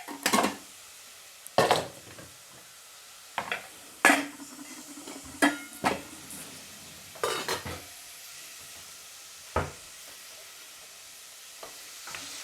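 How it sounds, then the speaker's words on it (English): A cooking pot is handled and stirred at the stove before cooking spaghetti, with a few separate close clanks and scrapes of metal and utensil spread through otherwise quiet kitchen air, no talking. "I'm going to get my pot ready to cook this spaghetti now."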